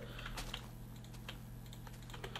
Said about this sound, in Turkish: Şöyle basarken falan çok ses yapıyor